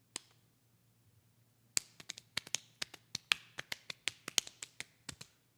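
Hands clap rapidly in an uneven galloping pattern to imitate horses' hooves, with sharp close claps that begin after a single early clap and a quiet pause.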